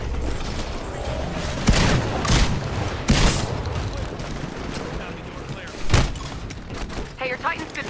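Gunfire and explosions from the first-person shooter game Titanfall, with scattered loud shots and bursts and mechanical clatter, heard under a player's ongoing chatter.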